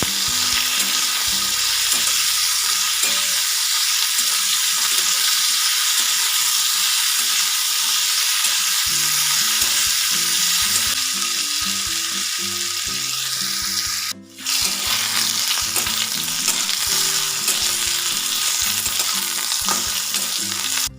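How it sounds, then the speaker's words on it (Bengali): Potatoes with a little salt frying crisp in a pan, a steady loud sizzle with spatula scraping and stirring throughout, a brief pause near the middle, no voices. "সামান্য নুন দিয়ে আলুগুলো কড়া করে ভেজে নেব।"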